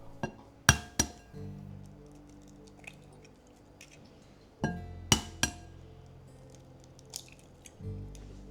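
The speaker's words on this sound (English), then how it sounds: "In a large bowl, crack 4 eggs, add a pinch of salt and beat until smooth." Four eggs are cracked into a large bowl with a pinch of salt and then beaten, giving sharp close clinks and taps against the bowl in small clusters with soft squishy sounds between them.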